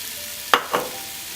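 Two quick bursts of sizzling in close succession as onions go into hot oil in a pan, each hiss sharp and then fading back to a quiet background.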